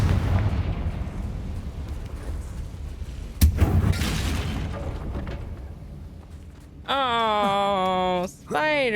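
Fiery spell blast in Hogwarts Legacy, a sudden booming burst at mid-clip over game rumble, followed by a rising synthetic magical tone near the end.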